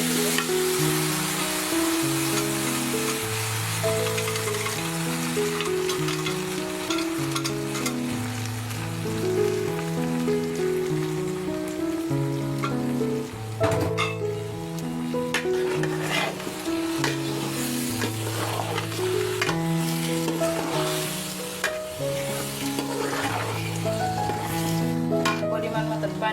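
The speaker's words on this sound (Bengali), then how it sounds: "চালটা ভাজা শেষ, এখন মাংসগুলো দিয়ে দিব।" Meat and rice fry together in a pan for biryani with a continuous sizzle and occasional stirring scrapes, heard under steady background music with a looping melody.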